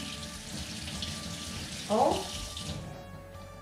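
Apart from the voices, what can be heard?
washing an organic lemon under running tap water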